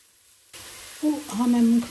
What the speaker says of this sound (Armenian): Մի փոքր ցածրացնում եմ կրակին և տապակում եմ։